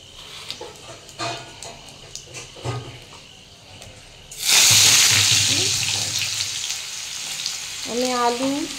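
Potato, pumpkin and tomato drop into hot oil already spiced with dried chilli and panch phoron, for a Bengali spinach and Malabar spinach chachhari. Quiet clatter comes first, then a loud, sustained sizzle bursts in and keeps going close by.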